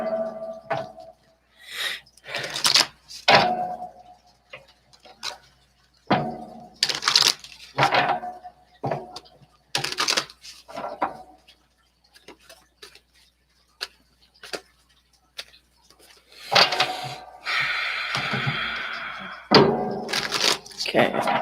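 Tarot cards shuffled by hand at a live reading, a run of crisp, papery riffling bursts separated by short pauses, close and fairly loud, with a voice talking at times between them.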